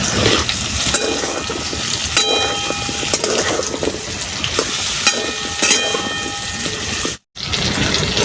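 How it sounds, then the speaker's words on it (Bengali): Mango pieces frying in oil with black cumin for mango jaggery, a steady dense sizzle broken by repeated scraping clacks of stirring, close and loud throughout, with a brief drop to silence near the end. "নাড়াচাড়া করে আমটাকে একটু ভেজে নিয়েছি"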